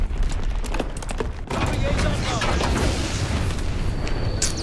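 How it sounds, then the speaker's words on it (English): An Azon bomb dropped in a WW2 combat game lands with a heavy boom around the one-and-a-half-second mark, followed by rumbling blast noise and scattered battlefield gunfire. "Dropping Azon bomb."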